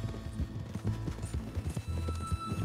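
Horse hooves clip-clop in a steady, close rhythm in Red Dead Redemption II, moderately loud with no talk over them.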